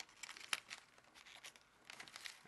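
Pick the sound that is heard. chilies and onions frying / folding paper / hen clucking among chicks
folding paper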